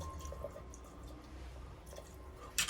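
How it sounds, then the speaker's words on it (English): Kino Bisei Export Navy Strength Japanese gin being poured into a glass, a soft continuous trickle with faint drips, ending in a brief clink, no voices. "quite a large pour of the amazing Kino Bisei Export Navy Strength Japanese gin"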